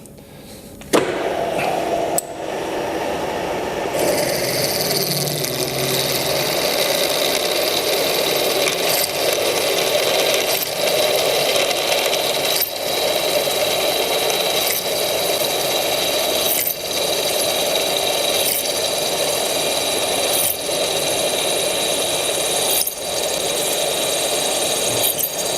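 A large drill bit turns at 550 RPM through hard metal on a drill press while a drill and tapping guide is being made. A motor hum starts and runs steadily, with faint regular ticks throughout.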